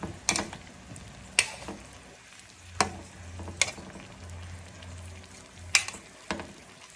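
Dried fish fries in a pan, a faint sizzle punctuated by sharp scraping clacks of a utensil against the pan at irregular intervals, with a low hum in the background.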